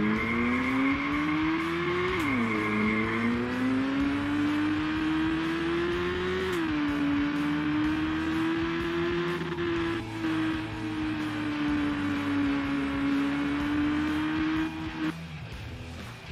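Engine of a car in a Unity AI racing game revs steadily under sustained tire squeal as it drifts, pitch dipping with gear changes and corner transitions, loud and continuous throughout before easing off near the end.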